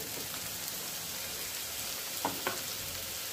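Amul butter with a little white oil sizzling in a pan while cooking chicken for do pyaaza, a steady soft frying hiss with a few small pops and stirring clinks, fairly quiet and close.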